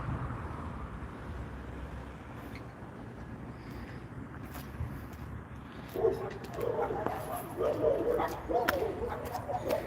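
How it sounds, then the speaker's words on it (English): A large dog barks from a distance outdoors in an old city neighborhood, a run of barks rising in the second half over traffic-like background rumble, with a person talking over it. "that sounds like a large dog that I don't want to meet"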